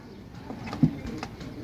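A teddy pigeon at a pigeon club gives a single soft, low coo, close and brief, over a quiet background of faint room noise.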